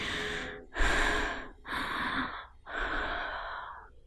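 Heavy, ragged breaths in four drawn-out bursts, each a loud rasping gasp for air with short pauses between, close and without talk.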